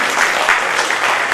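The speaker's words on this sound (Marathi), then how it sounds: "टाळ्या जोरदार दिले जरा" Brief, dense applause rises from the audience at a retirement ceremony for a deputy superintendent of land records in South Solapur.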